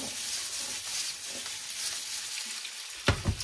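Potatoes fry in hot oil with a steady, close sizzle, ending in a couple of louder clattering stirs.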